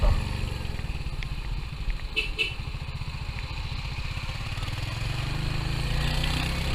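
Royal Enfield motorcycle engine, likely the Interceptor 650, running with a steady low throbbing idle that swells slightly near the end, heard up close with no talking.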